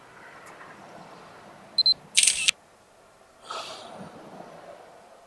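Camera shutter clicks outdoors at sunset: a quick double click, then a longer burst of rapid shutter fires, followed by a softer rustle, all over quiet ambient noise.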